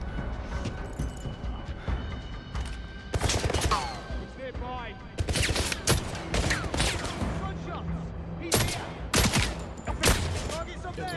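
Bursts of gunfire in the video game 007 First Light, several loud volleys of rapid shots clustered in groups with short gaps between, under a game soundtrack and occasional voices.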